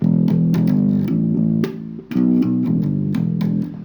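A bass guitar plays a short, bouncing riff: repeated low notes with a brief dip in the middle, clear and upfront.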